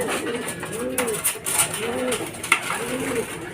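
Pigeons at a racing loft give repeated soft, throaty coos in a steady rhythm, close by, while a person talks in the background.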